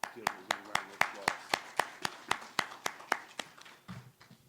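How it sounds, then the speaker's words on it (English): Steady, evenly spaced hand claps ring out crisply at an awards ceremony for a race relations prize, each clap sharp and distinct, about three per second. "I just want to give you a round of"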